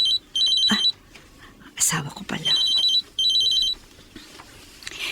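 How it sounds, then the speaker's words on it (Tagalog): A cellphone rings in short bursts of a bright, repeating electronic trill, with pauses between them, while someone speaks briefly between the rings. "Ang cellphone ko nagre-ring."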